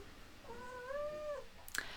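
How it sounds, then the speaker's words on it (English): Indoor cats in a quiet room give a single drawn-out, wavering meow lasting about a second, fairly close, followed by a brief soft click. "I do have my cats in work with me today"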